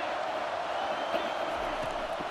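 A stadium crowd in the College Football 25 video game roars steadily on a late-game third down, a broad, fairly faint wash of cheering with a few thumps and bursts in it, alongside a commentator's voice.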